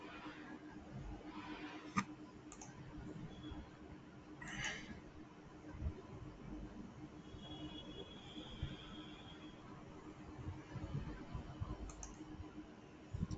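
A computer mouse clicks a few times at an office desk, sharp isolated clicks spread over a steady background hum.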